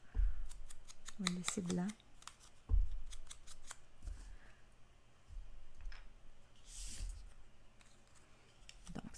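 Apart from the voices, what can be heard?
cutting scrapbooking paper with scissors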